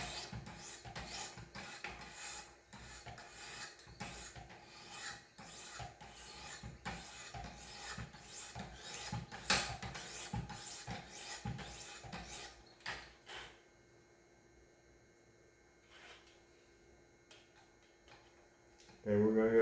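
A knife being sharpened and then stropped, with steady rhythmic rasping strokes of the blade against an abrasive, close and fairly loud, fading to quiet near the end.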